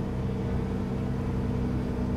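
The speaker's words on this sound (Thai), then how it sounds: "นี่เสียง JCB คืออันไพเราะอันแสนหวาน" A JCB construction machine's engine runs in the Construction Simulator video game, giving a steady, low, droning rumble at an even level with no talk.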